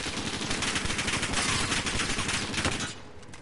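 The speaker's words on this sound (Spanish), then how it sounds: "me están disparando" Rapid gunfire aimed at the player in a video game, a dense, continuous volley of close, loud shots rattling for about three seconds before tapering off, with no talk over it.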